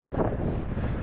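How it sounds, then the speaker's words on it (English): Strong wind buffets the microphone at the crest of the Kelso Dunes, desert sand dunes in the Mojave National Preserve, California, a loud steady roar that starts abruptly and holds for the full second with no talk. "this video will have a lot of wind noise in its first half"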